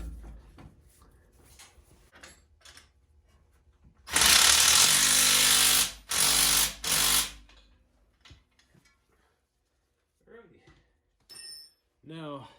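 Ratchet work on lift kit bolts during an install on a Jeep Cherokee XJ, heard as loud, long metallic bursts close by, with quieter clicks and someone talking at times.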